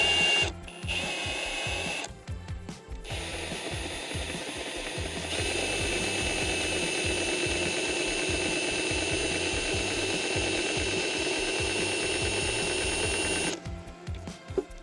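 A small bolt being turned to take apart the clamshell housing over a camper motor: steady mechanical ratcheting and whirring runs nearly continuously at close range, with brief pauses near the start and end and no talk.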